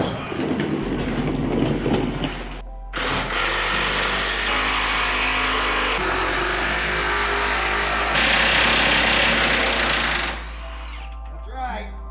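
Power tool whirs in long sustained bursts with brief pauses while fuel tank bolts come off an OBS Ford Powerstroke, loud and close, ending in a short tail of smaller clatter.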